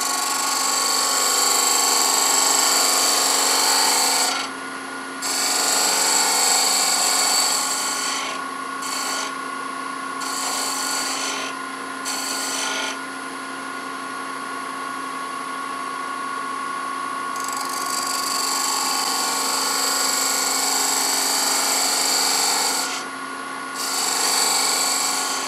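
Wood being cut on a lathe while turning an acorn box, a steady whining, rasping tone that runs continuously for the whole stretch, dipping briefly at a few points where the tool lifts off before biting again.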